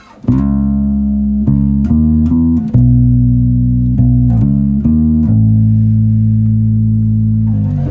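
Guitar plays the chord progression of the worship song Be Glorified with passing notes, a sequence of sustained chords with quick note changes in between, loud and close with no voices.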